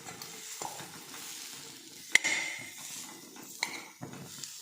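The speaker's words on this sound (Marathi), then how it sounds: "तर आता आपण खजूर भाजून घेऊयात." Dates roasting in a wok are stirred with a metal spoon over a low sizzle, with a few sharp scrapes and clinks against the pan standing out, close and without talk.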